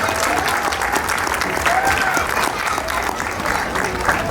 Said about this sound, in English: Give a big round of applause for Miss Evelyn.